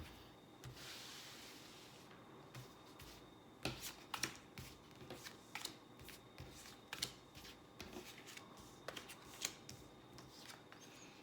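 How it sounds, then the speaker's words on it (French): Tarot cards are shuffled quietly for a five-card reading, a soft run of riffling followed by a steady series of crisp little flicks and snaps, close up with no voices. "on va faire un tirage à 5 cartes"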